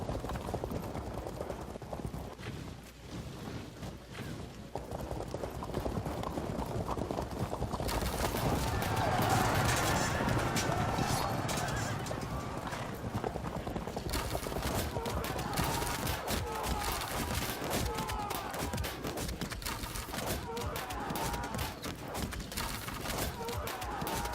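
Charging horse archers in the strategy game Field of Glory 2, with a dense, continuous clatter of hoofbeats and battle noise that grows louder midway and stays busy throughout.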